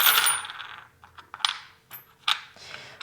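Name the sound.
fortune-telling charms being mixed in a basket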